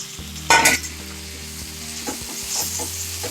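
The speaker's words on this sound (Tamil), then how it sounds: "வெங்காயம் தக்காளி நல்லா வந்து வதக்கிடுங்க" Onions and tomatoes sauté in a pan for a radish sambar, a continuous soft sizzle with a sharp burst of stirring early on and light scraping clicks afterward, with no voices.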